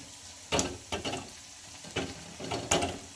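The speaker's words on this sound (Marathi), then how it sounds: "तर मस्त खुसखुशीत असा तळून घेणार आहोत आपण।" Potato vadas deep-frying in hot oil give off a low sizzling bed broken by repeated sharp bursts of crackle and spatter, close and uneven, as pieces are turned or stirred.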